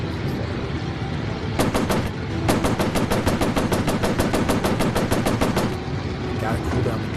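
Machine guns on a warplane in a VR combat game over the Pacific fire in rapid, loud bursts: a short volley, then a long sustained stream of sharp shots, over a constant engine drone.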